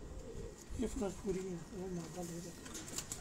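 Ferozpuri pigeons coo on a rooftop loft, a few soft, repeated throaty coos close by at low volume, with someone speaking faintly in the background.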